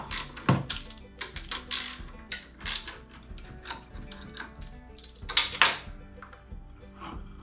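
A starter is removed from a Kohler Courage SV530 engine, heard as close, irregular metallic clicks, ratcheting and clanks of tools and parts in short bursts, with no talking.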